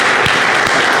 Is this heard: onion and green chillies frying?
no